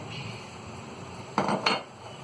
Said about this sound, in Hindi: यहाँ एक कढ़ाई हमने रख ली है